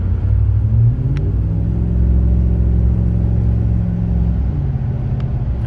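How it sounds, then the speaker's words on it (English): 2010 Ford F-150 Lariat pickup cruising at about 60 with a loud, steady low engine and road rumble inside the cab; the pitch falls slightly as the truck slows under hard braking. "We'll do a stop, like a hard stop, to show the rotor condition. We're going about 60."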